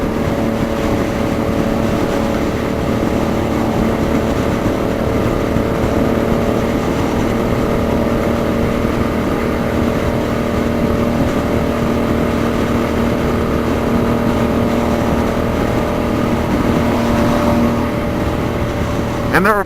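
Steady engine drone of a 2016 Suzuki Boulevard M109R cruiser motorcycle while riding, loud and continuous throughout with wind noise and someone talking over it.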